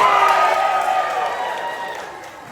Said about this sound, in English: I need to hear every single person in this theater cheering